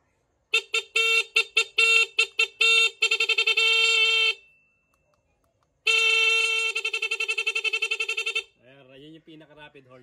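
A NHAY 3+ Pro music horn on a motorcycle sounds loud and close in rapid staccato beeps, then fast trills, a pause, another long rapid burst, then a voice talks.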